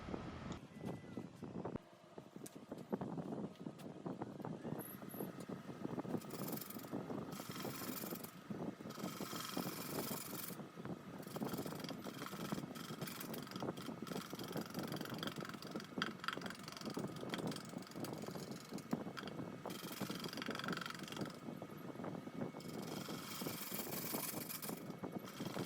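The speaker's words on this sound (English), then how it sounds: "it's a really hot day and I've got the fan running. So unfortunately with the sound you'll hear a little bit of background fluttering type" An electric fan runs in a woodturning workshop on a hot day, giving a faint, continuous fluttering hum in the background with occasional soft knocks and shifts.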